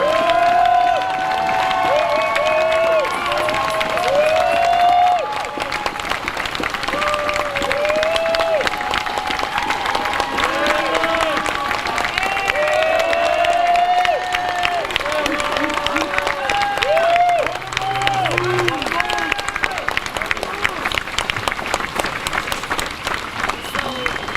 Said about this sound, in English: I really want us to clap just again to show some love